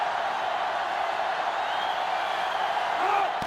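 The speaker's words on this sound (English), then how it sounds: "this crowd is going absolutely insane" A stadium crowd in the college football game NCAA Football 2005 roars in a constant wash of noise. The sound is broad and sustained and stays far off, with faint whoops rising from the mass.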